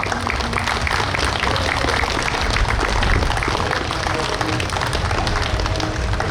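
A large, spirited crowd at a New York State Police special operations exhibition applauds honoring fallen team operators; dense, steady clapping and cheering fills the whole stretch at even loudness, with crowd noise mixed in.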